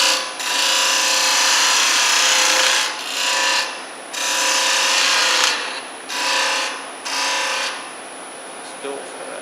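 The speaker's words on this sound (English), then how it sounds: "Take my spindle gouge" A spindle gouge cuts into a spinning segmented wooden baby rattle on a lathe, loud rasping scrapes in several long passes separated by short pauses, with the lathe humming throughout.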